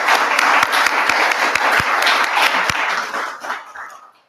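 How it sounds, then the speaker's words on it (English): A burst of clapping from a panel discussion audience rises quickly, continues briskly for a few seconds, then tapers off into a few scattered claps. "Can you clap with me as we welcome them?"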